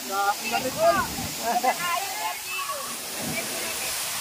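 Waterfall in a virgin forest, a steady close rushing hiss under the whole clip while several people talk and call out over it.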